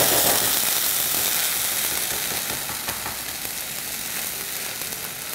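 Onion paste sautes in hot oil in a pan, a close, bright, continuous sizzle that is loudest at first and eases slightly as it goes on.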